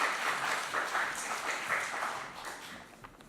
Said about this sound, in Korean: 오늘은 박수로 우리 목사님 맞이하겠습니다